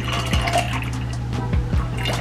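Sweet and sour mix is poured into a cocktail, a close, steady liquid stream with light splashing throughout.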